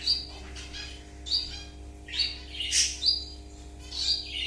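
Pet birds chirp in short bright bursts, a handful of calls spread across the stretch over a steady low indoor hum.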